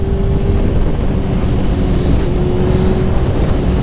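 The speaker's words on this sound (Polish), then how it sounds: "Teraz jest silnik rozgrzany i wszystko chodzi jak najbardziej poprawnie." A warmed-up Suzuki GSX-R 600 motorcycle engine idles steadily up close, a constant even drone with a faint hum running through it and some wind buffeting, and no one speaking.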